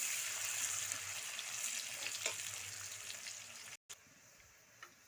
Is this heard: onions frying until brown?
yes